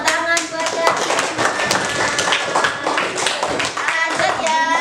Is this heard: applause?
yes